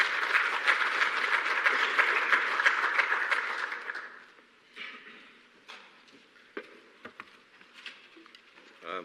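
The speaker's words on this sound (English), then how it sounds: "Please, a round of applause for Nelson." Audience applause at a climate resilience symposium, a full round of clapping for about four seconds that fades out, followed by a quiet room with scattered faint taps and small sounds.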